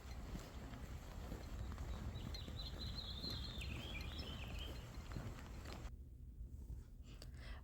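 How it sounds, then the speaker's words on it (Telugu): Small birds chirp faintly at a distance outdoors during a walk, a brief cluster of high calls sitting over steady wind rumble, with no one talking. "ఇందాక వీడియోలో మీకు బర్డ్స్ చర్పింగ్ వినిపించుంటది."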